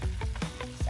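Trout frying over a campfire in the mountains, a quiet continuous sizzle and crackle with a few soft popping bursts.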